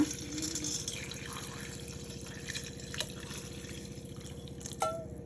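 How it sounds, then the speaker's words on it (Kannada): Water poured into a pot for okra sambar with tomato and curry leaves, a quiet continuous trickle and splash lasting several seconds, alone with no talk. "ಎಷ್ಟು ಬೇಕೋ ಅಷ್ಟು ನೀರನ್ನು ಹಾಕ್ಕೊಳ್ಳೋಣ."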